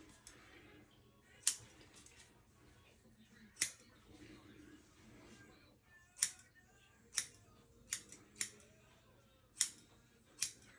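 Scissors snip at a hair unit of dark black hair during an installation, giving about eight sharp, isolated cuts spaced irregularly, close and crisp over a quiet room background.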